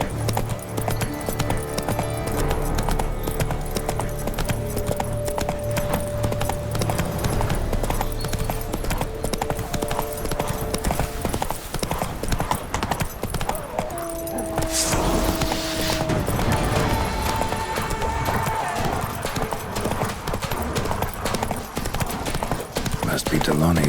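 Roach, the horse in The Witcher 3: Wild Hunt, gallops in a steady, fast clip-clop of hooves that carries on for the whole stretch, over a constant background of game music and ambience, with a tonal snort or whinny partway through.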